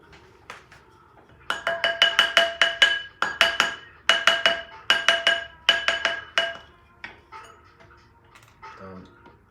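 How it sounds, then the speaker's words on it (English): A rawhide mallet strikes a 1.2mm sterling silver band ring on a steel triblet in quick bursts of ringing metallic taps, several fast clusters close up, then sparser lighter knocks. "steel triplet and a rawhide mallet for this"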